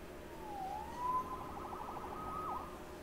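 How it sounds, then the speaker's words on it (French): A police siren wails in a Spider-Man video game, its single rising and falling tone sweeping slowly up and down, moderately distant over low background rumble. "Sauvé par les sirènes."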